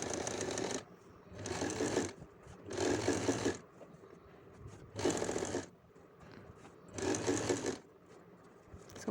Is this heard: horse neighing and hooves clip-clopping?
no